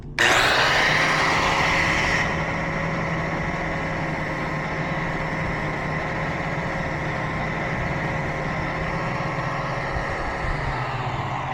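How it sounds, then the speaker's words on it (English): A grinder shapes a small part for a BMW E36 convertible top handle, starting with a loud high whine that settles into a steady sustained motor hum and grinding tone for several seconds, close and alone. "turn on the grinder."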